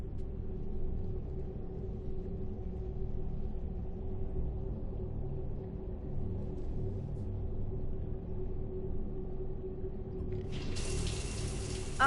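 Shower water running in Mass Effect 3, a steady, even hiss and rumble of spray that continues unbroken for about ten seconds before a brighter noise cuts in near the end.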